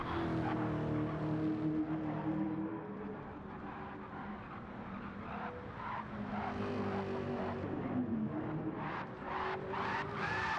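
A GTO race car in a racing game time trial roars with engine drone while its tires squeal and skid as the car slides sideways, the screeching swelling in several bursts toward the end.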